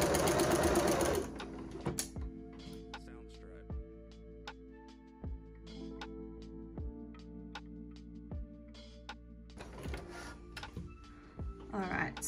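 A sewing machine stitches a bias-cut cowl dress in short bursts and single clicks, close and fairly quiet, with a person talking over the stitching.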